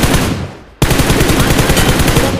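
Loud, close bursts of rapid automatic gunfire in a battle royale shooter, a short burst fading out and then a sudden sustained stream of rapid shots right up close.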